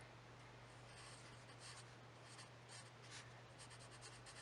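A pen writes on a journal page, giving soft, close scratching strokes in short bursts over a steady low hum, with no voices.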